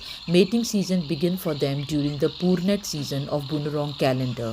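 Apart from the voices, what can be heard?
crickets chirping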